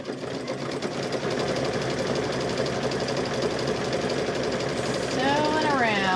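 A sewing machine runs steadily, stitching fabric-wrapped rope into a bowl, its close, continuous motor hum and needle chatter holding even throughout, with a short rising whine near the end.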